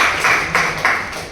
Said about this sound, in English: So big clap for you.